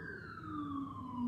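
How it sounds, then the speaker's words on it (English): An emergency vehicle siren wails at 12:33 a.m., its tone sweeping steadily over a low rumble of night traffic and growing slightly louder toward the end. "we have to have the siren, the first siren of the night"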